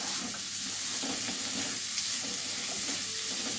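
Chopped tomato tipped into spices frying in a pan over medium heat for a boneless chicken gravy, giving a steady close sizzle with faint stirring scrapes throughout, no talking.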